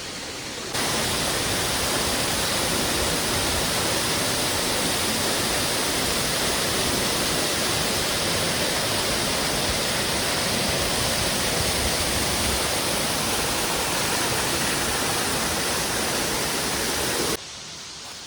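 Ermayi Falls, a waterfall, roars in a dense, steady rush of water that stays constant and loud for nearly the whole stretch, with no voices over it.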